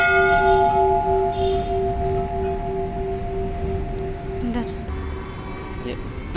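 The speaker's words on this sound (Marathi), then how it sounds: "यो घंटा कधी वाजवायचा राहतो" A large temple bell at the Janardan Swami Maharaj shrine in Kopargaon sounds a deep, sustained metallic hum that slowly decays, with a faint second strike near the end and people talking quietly in the background.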